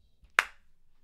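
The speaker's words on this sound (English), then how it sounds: "And clap on three." Several hands clap together once in unison: a single sharp, close snap that decays quickly into a quiet room.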